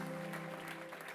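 A conference audience applauds and cheers for a speaker coming back to the stage. The clapping is faint and brief, with a sustained tone ringing over it.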